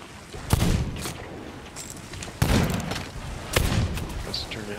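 Gunfire in the pirate video game Sea of Thieves: three sharp, booming shots spaced a second or two apart, each with a long rumbling tail, over a constant wash of sea and wind.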